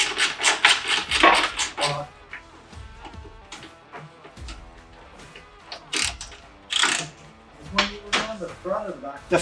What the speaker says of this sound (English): I don't know if you got a nut or your wrench on it yet.